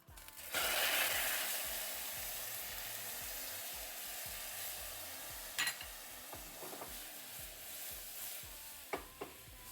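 Sugar caramelizing over low heat in a small pot gives a steady, close sizzle and bubbling hiss, with a few sharp clinks of stirring against the pot near the end.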